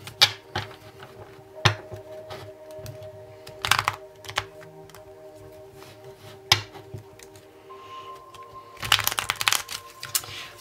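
A deck of tarot cards being shuffled, with scattered riffling bursts and soft taps near the start, midway and in a denser flurry toward the end, close and moderately loud with no talk.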